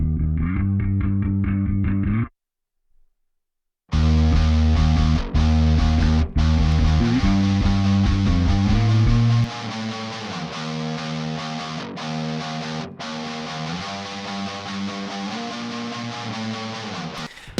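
A doubled bass guitar runs through a 5150 amp and is panned wide, giving a heavy, distorted, sustained tone. A short opening phrase stops for a brief silence, then dense, continuous driven notes return and hold steady.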